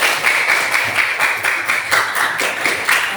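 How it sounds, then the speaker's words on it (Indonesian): A class of students in a classroom clap their hands together at a teacher's request, a steady, dense patter of many hands sustained throughout with no talk over it. "Tepuk tangan dulu untuk semuanya."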